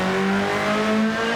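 A Honda race car in Gran Turismo 7, heard from outside, revs with a loud, sustained buzzing engine tone whose pitch climbs slightly across a short burst, with no talking.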